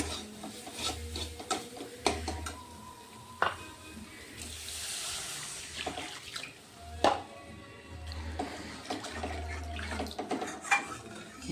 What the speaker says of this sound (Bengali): মশলা কষানো হয়ে গেছে, আমি এখন জল দিয়ে দিতে পারবো।